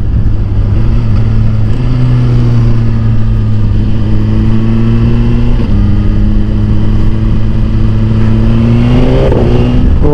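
Suzuki GSX-R1000R motorcycle fitted with a Yoshimura R11 exhaust on a ride out, its engine droning loud and close with steady rises and shifts in revs, continuous throughout with no talk.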